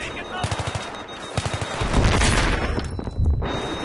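Rapid machine-gun bursts and heavy gunfire from the video game Battlefield 3 during an assault on enemy tanks and soldiers in windows, loud and close, with a big blast rumbling near the end.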